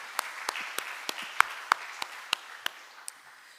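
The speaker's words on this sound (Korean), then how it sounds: "우리 부모님께 감사하는 마음으로 박수 한번 하겠습니다." Church congregation applauding at a Parents' Day Sunday service, a slow, fairly faint run of about a dozen separate claps spaced roughly evenly, with no voices over them.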